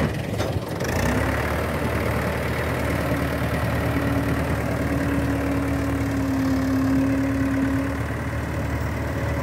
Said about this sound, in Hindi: आवाज़ भी भाइयों बढ़िया है ट्रैक्टर की।